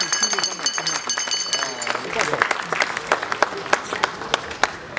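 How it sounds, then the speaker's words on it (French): An audience at a ceremony claps for an artist, a burst of loud, uneven claps building in the second half while people talk over it. "Est-ce que vous pouvez applaudir très très fort pour M. Masika Diombo"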